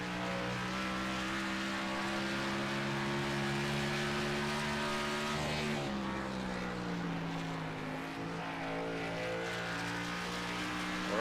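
A race car laps the Rockingham circuit in a league race, its engine a steady, droning whine that dips in pitch midway and then climbs back as it keeps running.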